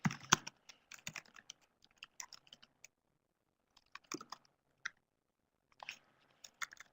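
Bursts of typing on a computer keyboard during a command-line session, irregular clusters of quick keystroke clicks with short pauses between runs, fairly close and quiet, no talking.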